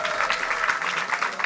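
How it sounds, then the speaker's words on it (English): Audience clapping after an economics talk, a brief steady patter of applause at moderate level. "let's have a round of applause for Rupal."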